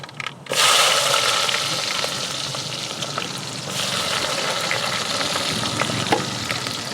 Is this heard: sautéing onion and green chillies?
yes